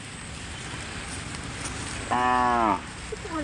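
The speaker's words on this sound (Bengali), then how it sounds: "এ গরু" A single cow moos once, loud and close, a drawn-out low call lasting under a second against a steady background hiss.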